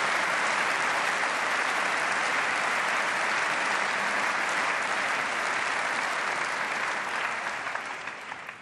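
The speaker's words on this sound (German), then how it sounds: "Applaus" Sustained, dense applause fills a parliamentary assembly hall at the opening of the 15th German Federal Convention in 2012, steady and loud throughout before tapering slightly at the end.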